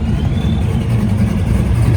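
A loud car engine rumbles and revs at a Las Vegas car meet and cruise, a dense low growl filling the short moment with no talk over it.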